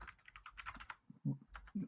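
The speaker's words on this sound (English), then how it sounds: "And I just hear furious typing over there." Fast, furious typing on a computer keyboard, a dense run of clicking keystrokes that gives way to a few heavier thumps near the end, heard alone at moderate distance.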